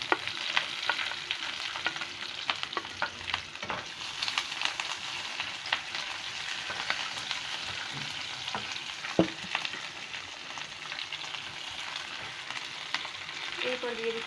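Green chilli, onion and capsicum fry in a pan with a steady, soft sizzle, broken by the scrape and clack of stirring throughout.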